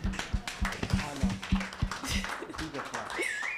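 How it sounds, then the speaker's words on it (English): A crowd at an anniversary panel event claps in a fast, loud, rhythmic unison pattern with sharp regular beats, mixed with scattered hand claps and cheers, and a voice calls out briefly near the end. "a clap, very African."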